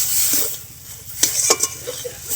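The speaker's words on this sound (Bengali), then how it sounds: "ওই পেঁয়াজটা আমি দিয়ে দিচ্ছি, দিয়ে আরও কিছুক্ষণ খুব ভালো করে নেড়ে চেড়ে নেবো" Sliced onion tossed into a hot pan for a Bengali flat-bean mash and stirred, making a close sizzle with a few quick scrapes and clinks of the spoon against the metal pan.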